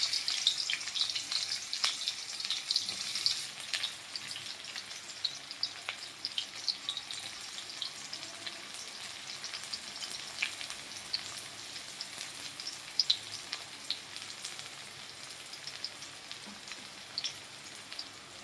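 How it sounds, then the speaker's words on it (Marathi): Onion sizzles and crackles in hot oil in a home kitchen pan, a steady close frying hiss with scattered pops running throughout, no voices. "त्यामध्ये कांदा घालून घेऊया."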